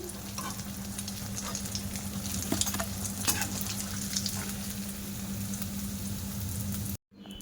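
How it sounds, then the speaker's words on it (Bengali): Steady crackling sizzle of potato chops deep frying in hot oil, with occasional stirring clinks, continuing evenly before stopping abruptly near the end. "আর একটু লাল লাল করে ভাজা করে নিচ্ছি"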